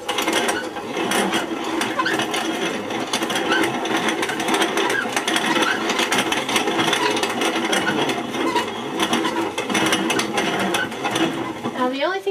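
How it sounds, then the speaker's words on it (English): A grain grinder cracks dry corn for multi-grain pancakes with a loud, continuous rattling, crunching mechanical churn that keeps steady throughout and stays close up. "Crack them in the grinder first, and it works."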